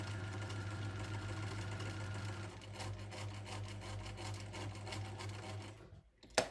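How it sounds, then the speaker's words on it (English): Sewing machine back stitching on a shirt placket, a steady close mechanical whir that shifts to a faster rattling pulse midway before stopping abruptly with a final clack. "Making sure that there is a back stitch there."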